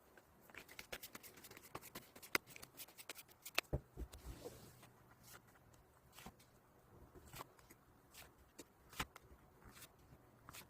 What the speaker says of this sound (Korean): 그럼 카드 셔플 진행해 보도록 하겠습니다